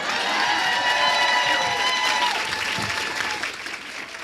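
A crowd at a Montana State University College of Nursing donation ceremony breaks into dense, sustained applause that fades gradually toward the end.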